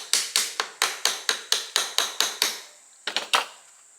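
Gentle metal taps on an Austin Healey starter motor being loosened: about eleven evenly spaced sharp knocks, a short pause, then three quicker taps, close and alone.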